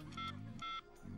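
A telephone is dialed in a Hindi comedy film scene, with two short, evenly spaced bursts of bright electronic tones cutting through low murmuring background sound, quiet overall.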